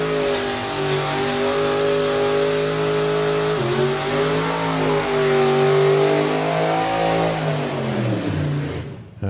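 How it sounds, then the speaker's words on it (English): Supercharged nostalgia drag racing car doing a burnout at a drag strip meet, a loud sustained engine roar with shifting revs and tire noise, steady throughout before cutting off at the end. "if one stonking burnout from Keith Freeman today wasn't enough, he decides to give us another one"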